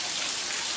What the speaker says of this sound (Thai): นี่คือภาพเหตุการณ์ฝนตกอยู่บริเวณ